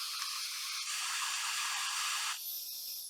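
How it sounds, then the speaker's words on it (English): Elchim Anemos hair dryer, a 1200-watt model, running on its hottest of three heat settings: a steady, close airy whoosh and hiss that shifts slightly in pitch partway through and continues alone. "this dryer is pulling 1200 watts, which you can get 2000 watt dryers that don't do half as well"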